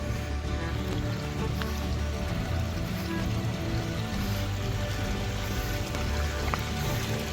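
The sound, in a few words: small creek flowing water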